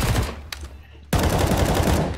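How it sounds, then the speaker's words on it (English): A sniper rifle shot on a Counter-Strike map: a loud, sharp broadband crack bursts in after a quieter stretch of game noise, with dense, sustained noise following it. "I got sniped all the way from CT."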